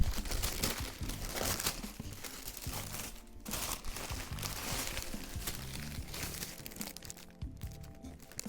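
Tissue paper crinkles and rustles continuously and close up as a box of Trump-themed sneakers is unpacked, with steady crackling handling throughout.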